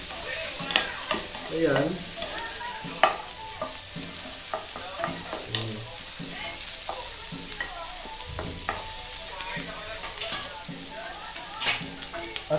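Dried chili goes into a stir-fry of pepper beef sizzling in a pan without olive oil, with steady frying crackle and repeated stirring scrapes and clatters throughout, and a brief voice near the start.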